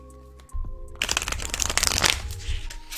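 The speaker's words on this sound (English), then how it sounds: "Let's shuffle up and pull cards." A deck of tarot cards is riffled and shuffled up close, a quiet moment giving way to a dense, crisp flurry of card flicks for a couple of seconds.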